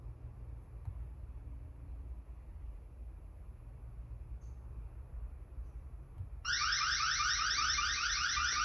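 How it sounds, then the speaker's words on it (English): A Eufy security camera alarm starts abruptly after a stretch of quiet room hum, a loud, rapidly pulsing electronic tone that sounds continuously to the end. "You can hear the alarm."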